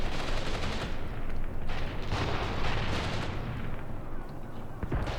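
Incendiary gunfire in the war game Graviteam Tactics, heard as dense, continuous bursts of shots and heavy booms layered into a rumbling, chaotic barrage at moderate loudness.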